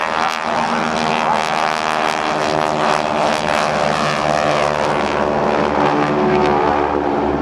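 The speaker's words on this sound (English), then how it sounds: "watch them as they take off in formation to get a lot of airplanes off the ground in a short amount of time" Several GEICO Skytypers propeller airplanes take off in formation at an airshow. Their engines make a loud, steady drone that holds throughout and swells slightly as the aircraft climb away.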